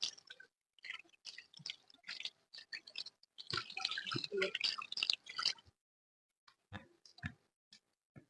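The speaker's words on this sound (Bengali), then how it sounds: "তারপরে হাতগুলাকে ভালো ভালো করে ধুতে হবে দুইটা হাত তিনবার করে আপনারা ভালো করে ধুবেন" Hands being washed with water during wudu, the Islamic ritual ablution: irregular splashes, drips and wet rubbing, close and fairly quiet, with a busier stretch of splashing in the middle and short silent gaps.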